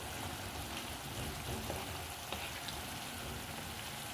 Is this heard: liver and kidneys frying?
yes